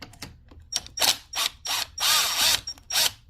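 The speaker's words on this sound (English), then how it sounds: "you're going to take out the two Phillips head screws at the bottom here" A power screwdriver whirs in several short bursts while backing Phillips head screws out of the throttle assembly on a Honda CBR motorcycle, each burst a second or less with brief pauses, close up and loud, with no talking.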